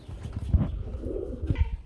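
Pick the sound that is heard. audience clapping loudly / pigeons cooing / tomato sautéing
pigeons cooing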